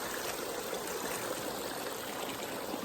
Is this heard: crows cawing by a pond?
no